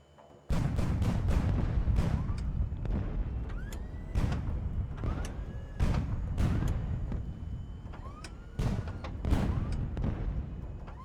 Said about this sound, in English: this is going to be a big explosion